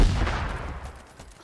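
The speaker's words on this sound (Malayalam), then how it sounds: "സ്കോപ്പില്ലാതെ ഇത്രയും ദൂരം നിന്ന് വെടി വെച്ചാൽ പറ്റൂല." A burst of gunfire from a long-range weapon in a shooter video game starts loud and then fades into a decaying rumble with no speech.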